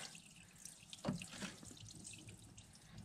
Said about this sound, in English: I just unscrew this here diesel's going to flow everywhere